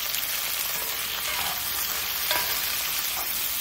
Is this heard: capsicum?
yes